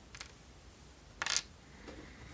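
A coin is taken from the general supply while playing the board game Marco Polo, giving a few faint, brief metallic clinks and taps, one slightly louder, in a quiet room.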